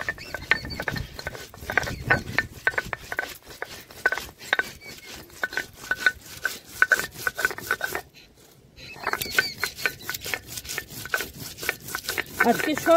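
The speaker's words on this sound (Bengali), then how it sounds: "এবার বাটছি জিরে আর কাঁচা লঙ্কাটা।" Cumin and green chillies are ground on a grinding stone with steady, rhythmic rubbing and rasping strokes. The close scraping repeats at a regular pace and pauses briefly midway before resuming.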